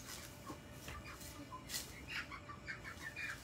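A chicken let loose to feed in the grass gives soft, scattered clucks. Other faint bird calls join it over a steady outdoor background, with no one speaking close by.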